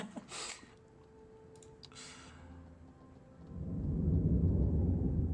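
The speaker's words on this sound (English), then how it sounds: "I hear a thunderstorm brewing." Rumbling thunder in the city-building game Cities Skylines 2 swells up low and heavy over the last couple of seconds, after a quiet stretch with a few sharp interface clicks and faint tones.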